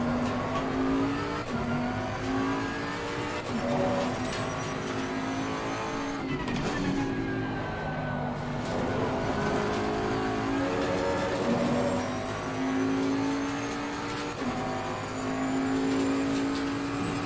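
A race car engine in an 8-hour endurance racing simulator event at Kyalami, droning steadily and continuously throughout, with gear changes, revving and occasional tyre squeal, loud with no talking.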